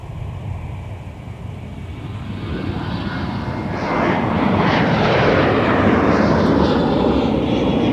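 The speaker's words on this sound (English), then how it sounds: "So this is Delta Flight 756 off to the Golden State of California." A Delta airliner, Flight 756 bound for San Francisco, departs Minneapolis airport, its jet engines roaring loud and steady and swelling louder as it climbs away.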